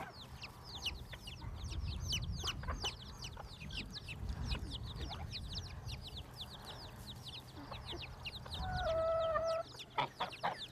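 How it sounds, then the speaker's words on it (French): Chicks, a bantam hen and guinea fowl make a dense, steady stream of high peeping chirps over soft clucking, with a brief harsher call near the end. "il retrouvera ses frères au milieu des poussins, de la poule naine et des pintades"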